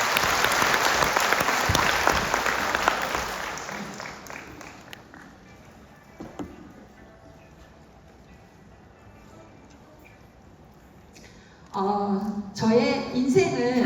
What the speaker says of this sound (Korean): 이 자리에 오신 사장님들한테 정말 큰 박수를 보내드리고 싶습니다.